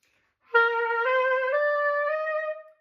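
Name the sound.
student metal clarinet played out of tune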